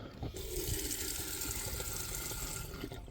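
A new Franke kitchen tap running hot water into a sink, a steady close gush of water pouring continuously throughout.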